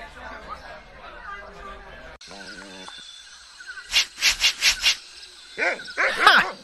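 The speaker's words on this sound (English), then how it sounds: "Bark as loud as you want." A dog in the adventure game Monkey Island 2: LeChuck's Revenge barks in a quick run of five or so loud, close barks, then a few more, after a stretch of game sounds.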